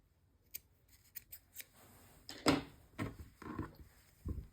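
Scissors snip through yarn from a crocheted beanie, several crisp close cuts in quick succession followed by a few louder, rougher snips and rustles in a quiet room.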